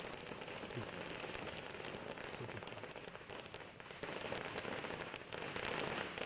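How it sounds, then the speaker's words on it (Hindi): Distant fireworks crackle continuously in a dense, steady patter, faint and unbroken, with no voices, set off during Indian election results. "तो ये आतिशबाजी की तस्वीरें हैं बीजेपी की संभावित जीत पर"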